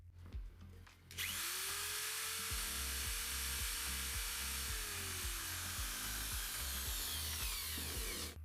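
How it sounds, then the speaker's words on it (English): An electric drill powered from a backup inverter spins up after a click and runs steadily for several seconds, a loud continuous whine with rhythmic pulsing, no talking. "The drill starts up without any problems."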